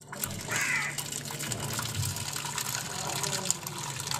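Water poured off boiled mustard greens for village-style sarson ka saag, a splashing, gushing pour near the start that settles into a lighter trickle, with a low steady hum underneath.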